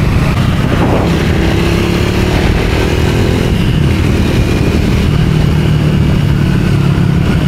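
A new motorcycle running nearby at delivery, a steady loud low engine rumble that holds throughout with slight shifts in pitch and no talking.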